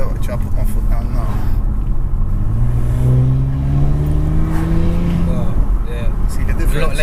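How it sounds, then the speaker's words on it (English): A tuned Audi RS5 TDI in comfort mode accelerates from inside the cabin, the engine note climbing steadily in pitch through the pull, with people talking over it. "So look, I'll put my foot down now."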